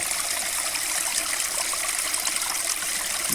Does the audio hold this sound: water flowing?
yes